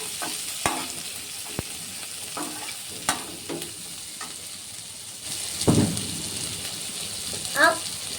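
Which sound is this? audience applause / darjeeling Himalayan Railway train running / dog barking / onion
onion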